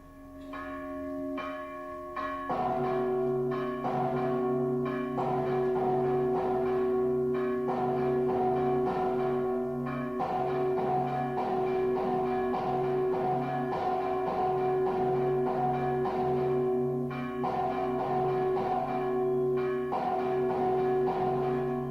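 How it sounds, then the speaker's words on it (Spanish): A church bell rings repeatedly in a slow, steady rhythm, its deep tones lingering and overlapping, heard clearly on its own without any voices. "vamos a escuchar un ejemplo de una campana"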